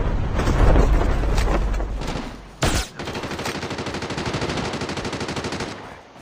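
Rapid bursts of automatic gunfire in Call of Duty Mobile battle royale, loud and close, with a sharp blast midway followed by steady fast firing.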